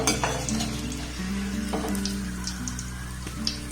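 Mughlai paratha stuffed with raw potato sizzles and crackles steadily in hot oil, a dense continuous frying hiss with small pops, close and fairly loud.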